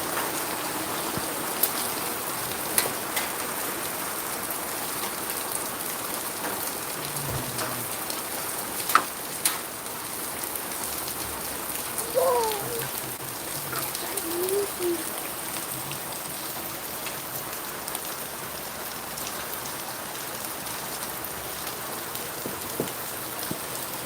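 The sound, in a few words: hail falling in Romania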